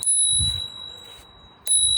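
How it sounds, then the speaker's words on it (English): Ravemen Q3 bicycle bell struck with the thumb on its lower striker: two bright, sustained rings, the first decaying slowly over about a second and a half, the second sounding sharply near the end, close and clear with no talk. "so you can use your thumb to sound the bell using the lower striker"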